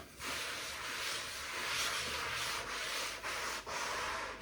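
A cloth is rubbed briskly across textured porcelain tiles to dry the surface, a close, steady scrubbing rasp in repeated strokes with brief pauses between them.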